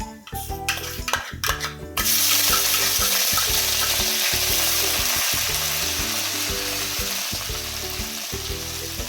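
Cumin, garlic and chili paste hit hot oil in a pan for Ratlami sev curry. After a few sharp clatters, a loud, steady sizzle of frying begins and continues unbroken, with background music underneath.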